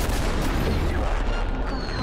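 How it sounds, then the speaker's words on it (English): An explosion in the video game Cyberpunk 2077 is a loud, dense, continuous rumble of booms and crackling blasts, heard close and without talk. "Why is there an explosion then?"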